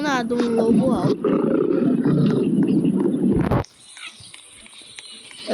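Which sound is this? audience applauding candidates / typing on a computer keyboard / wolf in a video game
wolf in a video game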